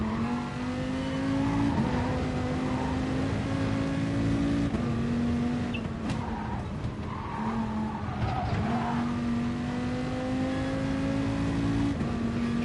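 Engine of a race car in the GT Sport video game at Laguna Seca, droning loud and steady as it shifts pitch through the gears, with tyre squeal and skidding mixed in and no talk.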